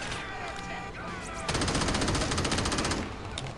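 Gunfire in the action game Crackdown, automatic weapons rattling in sustained rapid bursts that grow louder and denser halfway through, mixed with game music and effects.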